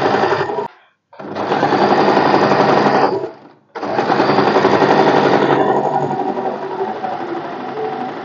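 A sewing machine stitches tucks on a blouse in loud, rapid mechanical bursts, running close in three long runs separated by two brief pauses, with no talking.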